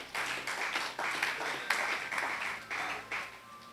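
A church congregation claps hands in scattered bursts and a rough rhythm, fairly faint and slightly distant, with no speech over it.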